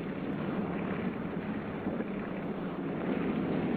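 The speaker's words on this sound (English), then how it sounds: "His one remaining engine is losing power." A single remaining engine of a 1950 Antarctic expedition aircraft losing power, heard from inside as a steady, loud, broadband roar with constant wind-like rush and no voices.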